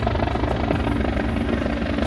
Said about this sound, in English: He's delivering her by a helicopter.